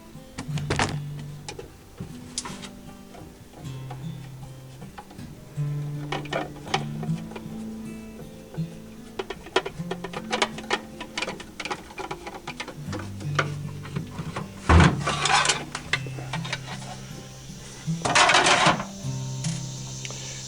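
Back panel coming off a Rikon table saw with a faulty capacitor: scattered clicks, taps and metallic thunks from a screwdriver and loosened panel, close by and irregular, with short whirring bursts and a louder clatter near the middle.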